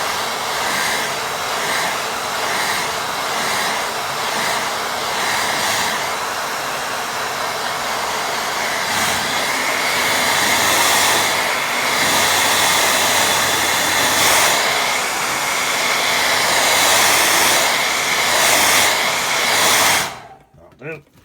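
Hair dryer blowing steadily and fairly loud on a watercolour painting for about twenty seconds, its airflow shifting slightly as it is moved around, then switched off abruptly at the end.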